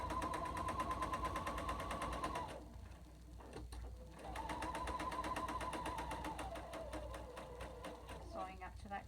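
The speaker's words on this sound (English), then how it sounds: "I do like to sew with my needle in the down position because it helps lock my fabric" A sewing machine stitches fabric for a batwing mask in fast, even mechanical bursts, running close and loud, pausing briefly before starting again, with a voice talking over it.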